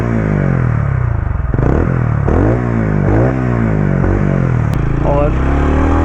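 A TVS Ronin 225cc motorcycle rides through city traffic, its exhaust giving a loud, close, continuous drone that rises and dips in pitch through repeated gear changes, with wind rush behind it.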